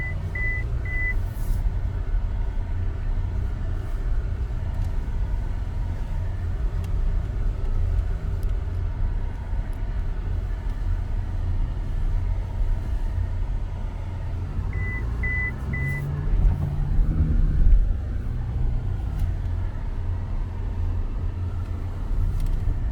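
An MG Gloster SUV drives over an off-road course, giving a steady low engine and road rumble throughout, with a couple of faint short beeps and no voices.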